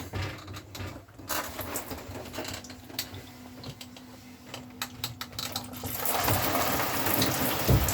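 Water runs steadily from a tap in a Compass Mendip Magnum caravan toilet room, a broad hiss that grows fuller and louder toward the end, with faint clicks and handling sounds earlier.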